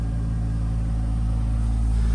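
A pickup truck engine idles steadily at close range, a deep, constant rumble holding evenly with no talk over it.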